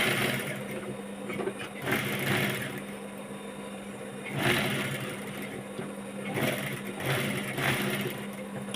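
A sewing machine stitches small pieces of cut fabric in bursts, a fast whirring motor rattle that starts and stops several times at close range.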